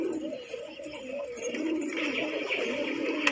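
Pigeons coo softly and continuously at close range among a flock in India, a low rolling murmur with faint rustling over a steady background.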